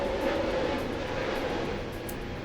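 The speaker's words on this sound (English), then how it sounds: "That is a plane." A low-flying airplane passes overhead near a modern house, a steady broad engine drone that stays loud and unbroken throughout, with no talking.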